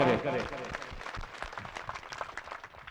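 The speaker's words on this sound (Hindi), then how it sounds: "दोनों हाथों को एक बार उठा ले पूरा मजमा और उठा करके जोरदार तालियों से इस्तेमाल करें" Applause from a seated audience at an Urdu poetry recital (naat and nazm gathering), starting loud in the first half-second and then dropping to a thinner, uneven patter of claps with talk and crowd noise mixed in.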